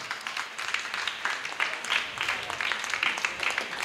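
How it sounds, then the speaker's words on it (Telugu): An audience at a church prayer service claps as a priest is called forward, a soft scattered patter of applause heard at a distance with some talk underneath. "చప్పట్లు కొడితే ఇంకా బాగుంటుంది."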